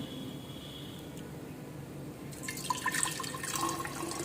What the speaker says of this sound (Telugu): సో దీంట్లో వాటర్ వేద్దాం